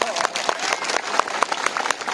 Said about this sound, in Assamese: ডাঙৰকৈ হাত চাপৰি দিয়ক